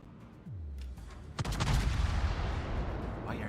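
Naval guns fire in World of Warships, a deep booming salvo blast at about one and a half seconds followed by a rolling, rumbling echo and lingering thunder, loud and close with a whistling shell sound before it.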